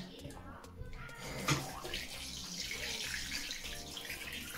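A tap fed by a low-pressure instantaneous water heater runs with a soft steady splash and hiss of water, a brief louder gush partway through, and a voice speaking over it.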